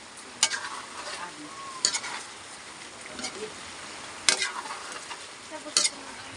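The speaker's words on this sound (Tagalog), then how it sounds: "Halo ulit, halo." A spoon stirs chicken adobo with saba bananas in a sizzling pan, heard as steady frying with sharp scraping strokes about every one to two seconds, close up, with a voice talking softly underneath.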